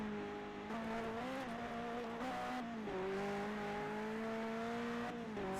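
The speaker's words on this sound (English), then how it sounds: "Ferrari F40, and the power it possesses as I hit the wall." Ferrari F40 engine in the racing game Forza Horizon, a loud steady drone that rises and dips with shifts, alone with no talk and faint tire noise.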